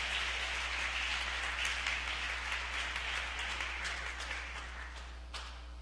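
A church congregation claps and applauds together in a steady wash of dense, rain-like clapping that holds for several seconds, then thins out slightly toward the end.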